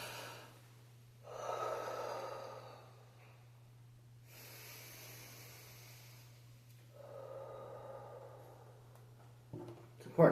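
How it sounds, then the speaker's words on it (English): A person takes a slow, deep breath in a quiet room, with a soft inhale followed by a long exhale and a second breath a few seconds later, over a steady low hum. "So take a deep breath."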